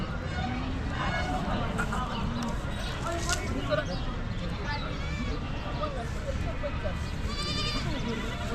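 Beetal billy goat at a goat market, bleating a few times amid a busy, noisy crowd of other animals and people talking throughout.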